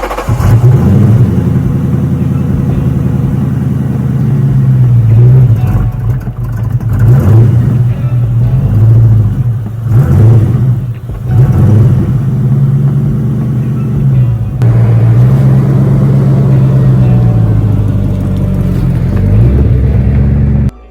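A 2000 Ford Mustang convertible's engine rumbles loudly nearby as the car is moved, idling with several blips of revving and shifts in pitch throughout the whole stretch.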